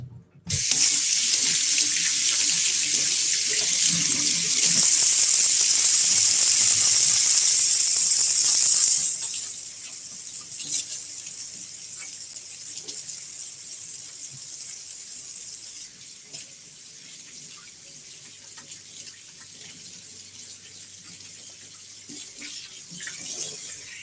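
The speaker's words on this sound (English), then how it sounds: "So I'm going to wash my hands." A kitchen tap runs steadily for handwashing during a cow heart dissection, a loud rushing splash for the first nine seconds before it eases into a quieter, uneven trickle and dribble with handling noises.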